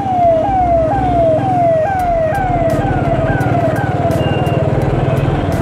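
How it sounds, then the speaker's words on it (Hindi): An ambulance siren wails close by in city traffic near a bridge, its rising-and-falling cycles repeating loudly over engine rumble, with a second warbling siren tone joining later. "एम्बुलेंस आ चुका है, तो सावधानी बरतो"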